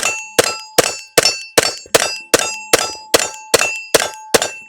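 Handgun bullets striking a metal shooting target, twelve sharp ringing clangs at a steady, rapid rhythm, each decaying quickly, with no speech.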